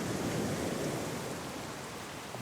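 Torrential tropical rain pours down as a dense, steady roar of hiss and spatter with no break and no voices.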